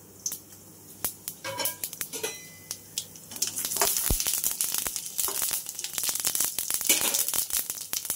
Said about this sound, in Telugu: ఫస్ట్ తాలింపు గింజలు వేసుకుందాం